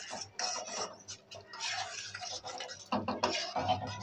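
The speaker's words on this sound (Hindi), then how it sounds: "और इसको चलाते रहेंगे।" Stirring chicken corn soup in a pot, giving soft intermittent scraping and clinking of a spoon against the pot, moderately close, with short pauses between strokes.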